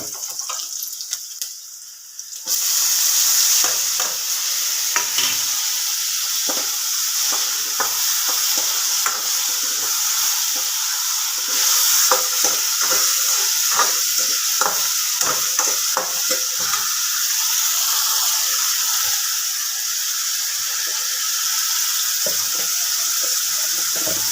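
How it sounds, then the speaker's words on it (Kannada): Onions frying for tempering in a pan on a stove, a steady loud sizzle with scattered crackles and stirring scrapes running throughout without talk. "ಉಳ್ಳಾಗಡ್ಡಿ ಒಗ್ಗರ್ನ ಹೊಡ್ಯಾಕತ್ತೀವಿ ನೋಡ್ರಿ"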